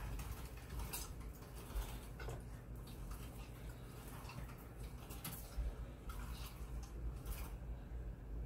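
An antique hand-cranked meat grinder works through roast meat, giving faint, close creaks, squelches and soft mechanical clicks in an uneven rhythm as the crank turns, with no talking.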